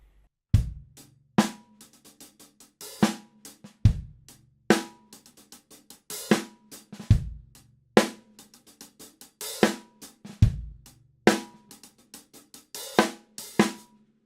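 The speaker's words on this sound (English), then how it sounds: "we're going to play a little triplet lick" A drum groove playing a triplet lick and paradiddle on the hi-hat, the steady hi-hat pattern broken by quick tom and snare fills, punchy low hits recurring every couple of seconds, close and clear.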